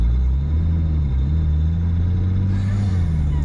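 Heavy, raw drivetrain rumble inside a 2006 BMW 335i E92 cruising on a highway, a loud, steady low drone with a slight rise in pitch, with no talking.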